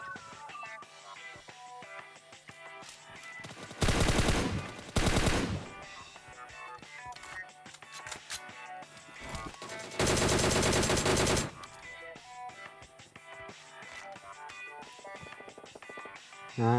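Bursts of rapid gunfire from PUBG Mobile, two short volleys then a longer sustained one, loud over a quieter background of game sounds.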